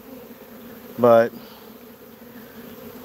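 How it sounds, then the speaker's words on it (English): Bees from a hive whose swarm queen has died, a short loud burst of buzzing lasting about a third of a second, close by, over a faint steady hum. "To see the bees acting as crazy as what they are right now"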